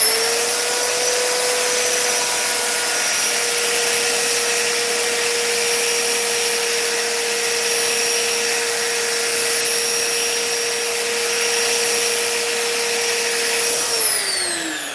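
A belt grinder sharpening a mower blade whines loudly and steadily at close range, holding one high tonal pitch throughout before winding down near the end.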